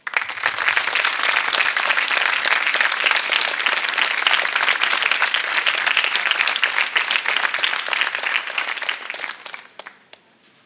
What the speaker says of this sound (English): I ask you to give them a round of applause.